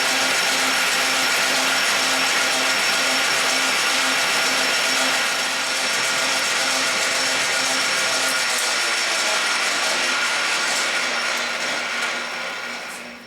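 Steady, loud machine whine of a milling cut on an end mill grinding fixture, taking a light pass, running continuously with a droning tone and a slight fade near the end, no talk.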